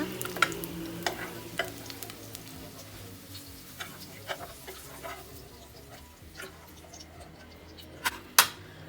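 Peppers frying in hot oil in a pan, a steady close sizzle with scattered sharp pops and crackles from the spitting oil.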